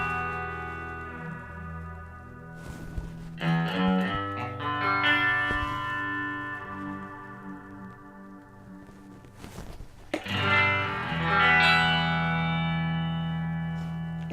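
Electric guitar played through a Boss DD-7 digital delay pedal in a modulated, vibrato-like setting, with sustained chords and notes that ring out and smear into a wavering, echoing tail, alone with no voices.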